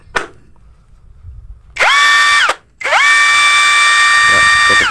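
A Yukido cordless impact driver, after three years of use, runs in two loud bursts of steady motor whine, each lasting under a second to about two seconds, separated by a short gap and preceded by a faint click.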